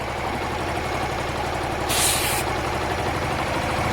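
A Honda Varadero 125 motorcycle engine runs close by with a steady pulsing idle, with a short burst of hissing air partway through.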